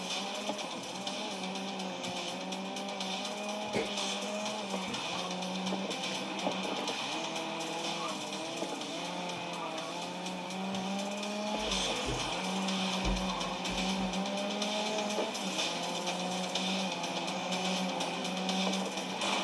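Race cars in the racing video game GRID Legends, played on a Xiaomi 17 Pro Max phone, with a continuous whining engine drone that rises and falls through gear shifts under a steady roar, with no talking.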